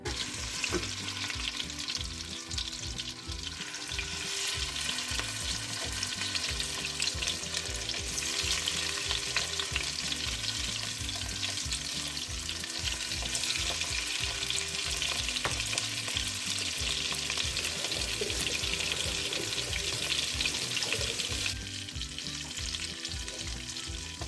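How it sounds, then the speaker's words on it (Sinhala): Salmon fries in melted butter with a dense, continuous close sizzle and spatter that holds steady for a long stretch, easing slightly near the end, with no talking. "මේ වෙලාවේ මම මගේ සැමන් ටික එකතු කරගන්නවා"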